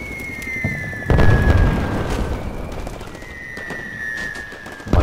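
Artillery fire-mission explosions in the Combat Mission Shock Force war game, a series of deep booms with rumbling tails, together with scattered distant gunfire and a high whining tone.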